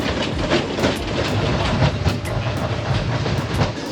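A park train at Iguazu Falls rolls past nearby, its wheels clicking in a quick rhythmic clatter over rail joints beneath a steady mechanical rumble, fairly loud throughout.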